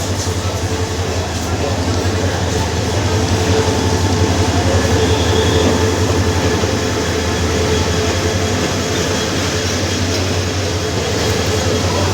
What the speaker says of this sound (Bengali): একটা ট্রেন প্রবেশ করতেছে এই মুহূর্তে